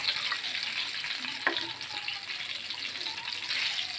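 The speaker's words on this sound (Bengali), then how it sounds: "এবার একটু গ্যাসটা কমিয়ে আমি ভাজা পর্যন্ত অপেক্ষা করব" Rohu fish pieces coated in gram flour and rice flour fry in oil over a lowered flame, giving a steady, close sizzle with soft stirring and one sharp clack near the middle.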